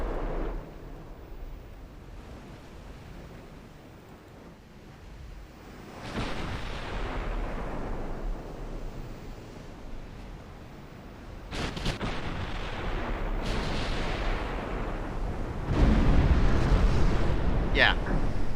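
Heavy naval guns firing from warships in Ultimate Admiral Dreadnoughts, booming blasts with long rumbling tails arriving every few seconds, louder toward the end, while someone talks over them.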